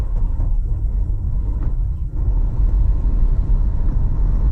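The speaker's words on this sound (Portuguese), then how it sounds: "Então eu sinto um pouco as vibrações e sinto que há um motor funcionando." Low, muffled engine rumble of a Renault Captur TCe 90 heard from inside the cabin, steady and subdued with road noise, no talking.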